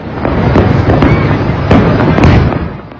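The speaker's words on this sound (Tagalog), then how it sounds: "napalitan ng pagsabog ng fireworks ang kalangitan ng Tehran sa Kapitolyo ng Iran" Fireworks burst over Tehran, Iran, in a rapid series of loud cracking explosions and pops layered over one another, close and overpowering, with no talk.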